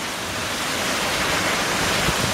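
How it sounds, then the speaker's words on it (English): Light rain blown hard by strong storm wind, a broad continuous rushing hiss, steady and fairly loud throughout. "Just a little light rain just blowing like crazy."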